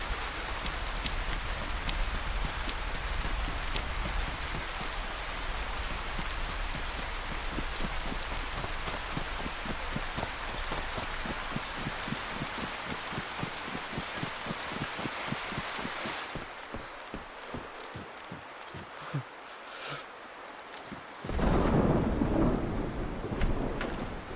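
Steady heavy rain pours in a survival shooter game set in Livonia, with thunder breaking and rumbling loudly near the end.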